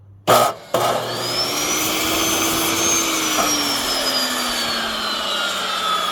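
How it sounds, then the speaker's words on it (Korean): A power saw blade cuts through a measured 70 cm length of material while a chicken coop is being built: a couple of sharp starting thumps, then a loud, steady grinding whine that runs on without talk. "자, 70cm 정도 재고 이 톱날을 사용해서 잘라 보겠습니다."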